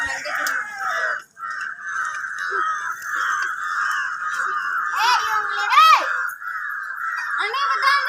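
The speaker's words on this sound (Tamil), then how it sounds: "காலையில இந்த காக்கா இப்படி தான் கத்திட்டு இருந்துச்சு" A crow caws repeatedly and loudly close by during evening children's play, harsh calls in a steady run, with children's voices and squeals mixed in.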